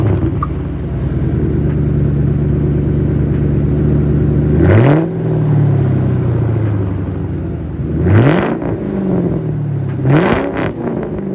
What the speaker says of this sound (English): The car sounds pretty insane, actually.